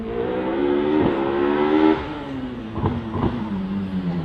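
A hill climb race car accelerates hard at Loton Park, its engine note rising and falling through gear changes, loud and fairly close with no talking.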